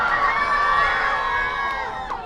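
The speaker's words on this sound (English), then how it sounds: "Heads in the hands from the crowd, screams." A soccer crowd at an amateur league match lets out a loud, sustained scream of anguish after a save, many voices rising together and then fading over a couple of seconds.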